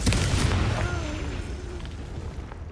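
A Confringo spell explosion in Hogwarts Legacy, one deep booming blast that rolls and fades over a few seconds, close and loud.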